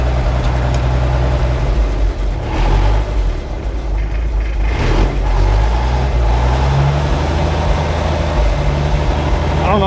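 A 68-year-old REO dump truck engine runs close by with a steady, loud, low mid-pitched drone and a brief rev partway through. It continues without pause as people speak over it.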